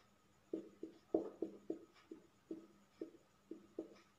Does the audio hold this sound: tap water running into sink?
no